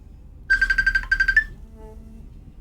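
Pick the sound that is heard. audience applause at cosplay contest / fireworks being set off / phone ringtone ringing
phone ringtone ringing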